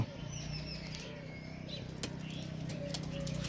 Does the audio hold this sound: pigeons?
yes